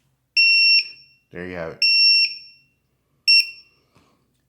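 A Drone Keeper Mini lost-model alarm gives three loud, piercing electronic beeps in short bursts. Someone speaks briefly between the first and second beeps.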